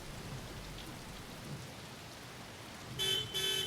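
Rain falls steadily as a soft, even hiss, with a brief brighter burst near the end and no talking.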